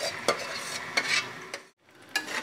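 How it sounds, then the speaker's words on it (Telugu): Gongura leaves being stirred into a dried prawn curry in a pan off the heat, with close scraping strokes over a faint sizzle and a short pause near the end. "ఈ గోంగూర అనేది ఇందులో కలుపుకుంటున్నాను"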